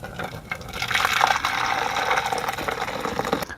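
Boiling water is poured into a 3-in-1 meal-in-a-jar mix, making a steady close liquid stream that runs for a few seconds with no talking.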